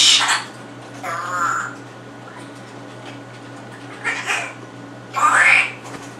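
An African grey parrot gives several harsh, close squawks and screechy calls in separate bursts with quiet gaps between them.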